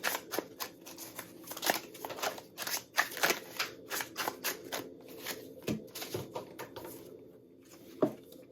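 Tarot cards being drawn and shuffled from a deck during a Gemini reading, a dense run of soft papery flicks, snaps and riffles close up, steady for several seconds with a few sharper slaps.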